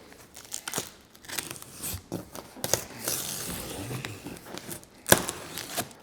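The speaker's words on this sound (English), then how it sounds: "Now let's get your box opened up. You'll want to use a pair of household scissors, diagonal cutters, or a box cutter." A cardboard box holding a Priority Continuum Onyx bicycle is cut open with scissors or a box cutter, giving close, irregular crinkling, tearing and snipping sounds at moderate volume with sharp bursts and brief pauses.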